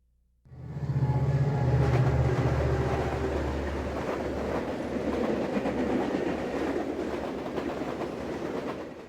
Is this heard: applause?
no